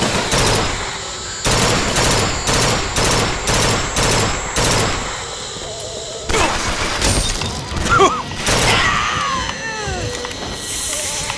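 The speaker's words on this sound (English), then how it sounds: "who's shooting at me?" Bursts of gunfire from Bioshock Infinite, loud and close, firing in rapid repeated volleys with short gaps, followed by crashing, shattering impacts and scattered effects near the end.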